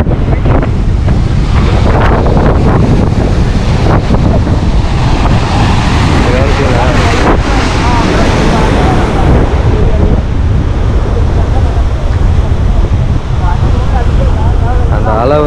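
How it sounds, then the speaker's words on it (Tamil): Loud sea surf rushes and crashes continuously against the shore at the old Dhanushkodi harbour, with heavy wind buffeting the microphone throughout. "அந்த அலை வந்து அடிச்சோன்னா அப்படியே மேலே வருது பாருங்க தண்ணி."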